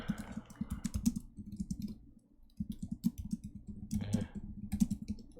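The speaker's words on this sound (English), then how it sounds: "my typing is terrible because I have a notepad in front of me on the keyboard" Typing on a computer keyboard with a notepad resting on it during a timed coding contest, producing bursts of quick, close clicks with short pauses between runs.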